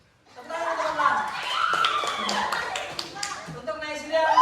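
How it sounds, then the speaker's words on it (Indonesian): Scattered clapping from a small group of children in a classroom game session, irregular taps and claps mixed with chatter and a bit of laughter, moderately close. "tepuk tangan untuk Fadlan"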